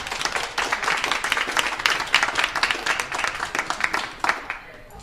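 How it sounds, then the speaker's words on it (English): A networking event audience gives a round of applause, with clearly separate claps forming an uneven, lively rhythm that builds and then tapers off toward the end. "let's give Toby another round of applause"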